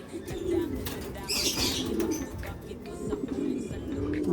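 Grizzle and blue bar pigeons coo in low, repeated throaty calls, with a burst of wing flapping partway through, all close by against a busy loft background.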